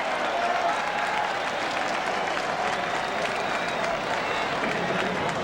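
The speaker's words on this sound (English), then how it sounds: "crowd jeering Bobby a bit" Baseball crowd at a Mets home game in Queens, a dense, steady wash of jeering and noise from a large stadium audience, moderately distant, with no single voice standing out.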